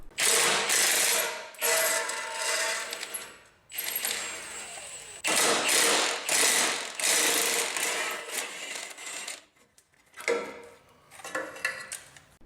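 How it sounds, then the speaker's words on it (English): A ratchet wrench clicks in repeated bursts as it loosens the Y-pipe bolts on a V8 fourth-generation Toyota 4Runner during a header installation. The close, loud clicking comes in several runs separated by short pauses. "Remove these 2 bolts in the back and then the 4 bolts in the front holding the Y-pipe on."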